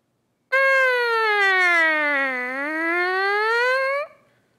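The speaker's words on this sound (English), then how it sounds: "just doing some sirens." A single buzzing brass-mouthpiece tone slides down in pitch and back up, a steady siren-like glide lasting about three and a half seconds.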